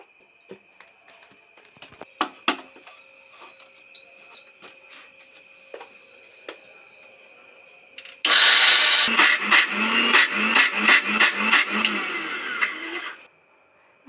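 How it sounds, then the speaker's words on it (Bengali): A kitchen blender grinds chana dal with a little water into batter: faint clicks and handling noises, then a loud, continuous whirring grind for about five seconds before it cuts off. "2-3 মিনিট তো গুঁড়িয়ে নিলাম, দেখি কেমন হয়েছে।"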